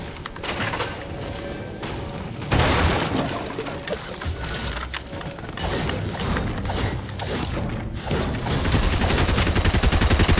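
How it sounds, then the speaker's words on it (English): Gunfire in the video game Fortnite, dense and continuous rattling bursts mixed with mechanical clanking and creaks, steady and loud throughout with no talking. "You're getting shot at"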